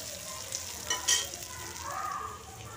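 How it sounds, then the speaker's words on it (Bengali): Onions soften in a very hot kadai for masoor dal, giving a steady close sizzle with a brief stirring scrape in the middle. "এরপর পেঁয়াজটাকেও আমি একটু নরম করে নেব"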